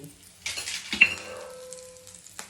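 A tempering of mustard seeds, cumin, dried red chillies and curry leaves hits hot oil for a lentil dish with organic puntikura greens, bursting into a short sizzle with crackles and a faint clink, then settling.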